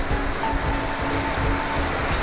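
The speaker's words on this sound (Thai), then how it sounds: "ตอนนี้ฝนตกหนักมาก" Heavy rain pours steadily at a seaside eatery on a small island in Surat Thani, a dense, even hiss with no pauses and no voices.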